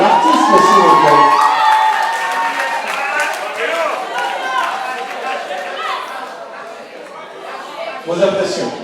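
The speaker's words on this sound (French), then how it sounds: "Un tonnerre d'applaudissements pour l'artiste aussi, s'il vous plaît." Audience applause and cheering fill an awards ceremony hall, a loud sustained crowd roar with clapping and shouts that gradually thins, then swells again briefly near the end, with voices mixed in.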